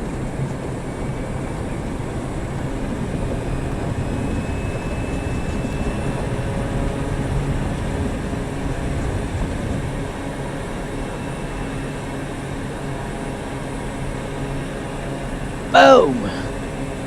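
A simulated aircraft takes off in Microsoft Flight Simulator over New Zealand, with a steady, moderately loud engine drone throughout and a brief sharp click near the end.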